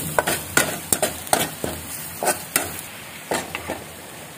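Onions sizzling in a pan at home while garam masala and spices are added, with repeated sharp scraping and stirring strokes against the pan over a continuous faint fry.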